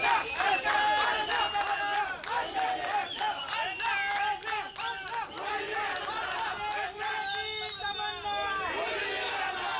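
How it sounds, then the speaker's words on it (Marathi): BJP workers celebrating in Pune at a political victory event: a lively crowd with overlapping shouts, chatter and scattered clapping, loud and continuous, with a dense rhythmic clatter running through it. "भाजपा कार्यकर्त्यांकडून हा जल्लोष साजरा करण्यात येतोय।"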